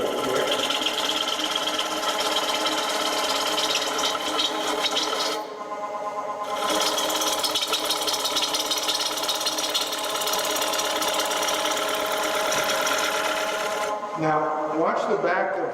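A turning tool cutting a wooden bowl on a powered lathe, a steady loud whirring drone with rubbing, rasping cuts, briefly pausing mid-way and again near the end.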